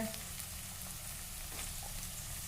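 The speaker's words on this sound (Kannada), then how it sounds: "ಈರುಳ್ಳಿ ಸ್ವಲ್ಪ ಫ್ರೈ ಆಗ್ಯಾವ ಈಗ" Onions for a vegetable sandwich filling fry gently in a pan, a quiet, steady sizzle with no voices.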